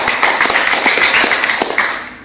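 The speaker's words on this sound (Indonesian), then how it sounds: "Boleh tepuk tangan bagi kita." Audience applause in a lecture hall at a health talk, a dense crowd of hands clapping steadily and loudly for about two seconds before tapering off.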